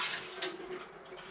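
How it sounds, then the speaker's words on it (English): Water poured out of a film developing tank splashes and trickles steadily for a moment, close and fairly quiet, with no voices. "I'll pour this water out,"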